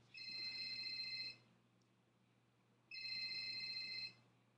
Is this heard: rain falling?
no